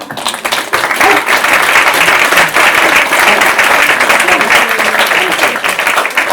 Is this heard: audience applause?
yes